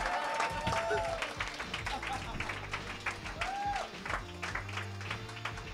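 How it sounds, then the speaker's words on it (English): An audience applauds and cheers a contestant at a live competition, a steady clatter of clapping with a voice talking over it. "by sheer applause, let's give it up for Jamie"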